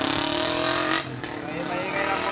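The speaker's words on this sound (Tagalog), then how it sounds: "Maingay ng motor." A noisy motorcycle engine drones loudly past at an outdoor street barbecue stall, its pitch dropping as it goes by, while people talk over it.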